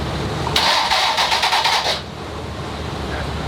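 The engine of a hot rod cranks at the track with its fuel injectors switched off. A rapid, pulsing starter churn lasts about a second and a half, then cuts out without the engine catching, over a low background rumble.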